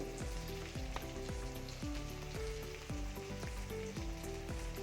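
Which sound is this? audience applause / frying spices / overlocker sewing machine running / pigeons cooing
frying spices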